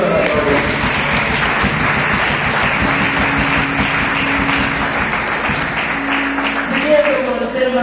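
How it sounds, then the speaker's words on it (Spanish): Church congregation giving loud, sustained applause for several seconds, a dense wash of clapping with some voices and organ-like tones mixed in. "Fuerte aplauso a Cristo de la gloria."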